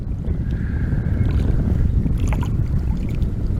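Steady, loud wind buffets the microphone outdoors for the whole stretch, a continuous low roar with gusty rises and no other clear sounds above it.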